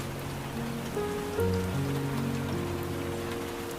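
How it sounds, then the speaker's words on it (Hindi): Heavy rain pours steadily in the anime film The Garden of Words, a dense, even hiss with no breaks, and faint tonal music runs beneath it. "उसके बाद वहाँ पर सच में काफी तेज बारिश होने लगती है।"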